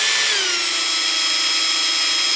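Power drill with a micro drill bit clamped in a standard chuck spins up with a steady, loud, close whine whose pitch settles after a brief rise, running without pause.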